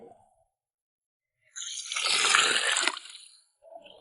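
Sun-dried watermelon rinds washed in water for a cold dish, a single close splashing, swishing rinse lasting about a second and a half between quiet moments.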